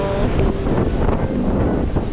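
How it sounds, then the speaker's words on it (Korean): Strong wind buffets the microphone with a loud, steady roar along an eastern Australian coast, high ocean waves breaking and surging underneath throughout, with no talk. "파도가 아주 높군요"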